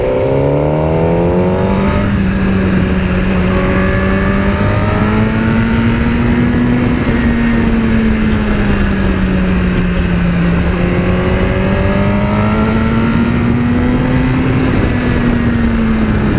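A 2017 Suzuki GSX-R1000 sport motorcycle engine roars loudly and steadily throughout, its pitch climbing and falling in smooth waves as the rider accelerates and eases off, with no voices.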